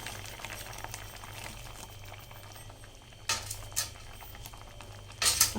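Mango and jaggery curry simmering in a pot, a soft steady bubbling and popping heard close and quiet, with a low hum underneath and a few sharper clinks and spatters toward the end.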